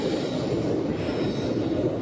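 A train on the Kollam to Chennai Egmore route rumbles through a long mountain tunnel at a steady pace, a continuous deep roar with a faint high whine above it and no voices.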